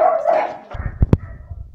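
Dogs in an apartment housing about thirty-one dogs at feeding time: a brief whining yelp, then two sharp, loud barks close together near the end, with scattered soft rustling underneath.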